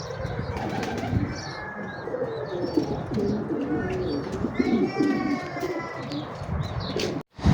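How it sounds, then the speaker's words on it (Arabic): Pigeons on a rooftop loft coo softly and repeatedly, mixed with chirps and a few bursts of flapping wings, close by and continuous, ending with a short pause and a final flutter. "الحمامات طالعات بالسطح"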